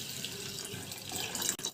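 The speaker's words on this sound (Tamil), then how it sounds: "அதே கப்லேயே வந்து 1 கப் அளவு தண்ணி சேர்த்துப்போம்" A cup of water is poured into a pan holding jaggery for jackfruit payasam, heard as a steady, close rush of water with a slight splash at the end.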